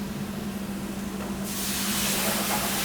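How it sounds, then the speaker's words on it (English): Ingredients for spicy rigatoni alla vodka sizzle in a hot pan in a restaurant kitchen, a steady hiss over a low hum that swells sharply louder halfway through, with no talking. "So we're gonna saute that over here, right?"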